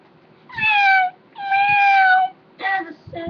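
A cat meows three times in succession, each call long, clear and drawn out with rising then falling pitch, fairly close and loud, the last one shorter and broken, with no talking over it.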